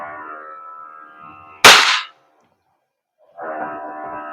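A single sharp crack from a WE M4CQB airsoft gas blowback gun fired on semi-auto, loud and close with a brief clattering tail, between stretches of a steady hum.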